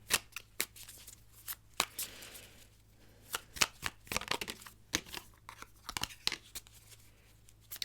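Affirmation cards being shuffled by hand, a series of sharp riffling bursts and soft slaps in an irregular rhythm, close and fairly quiet, with no talking.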